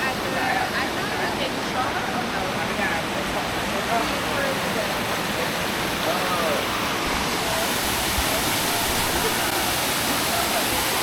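Steady, dense rush of a small waterfall on the Ha Giang Loop, loud and close, continuous throughout with no breaks.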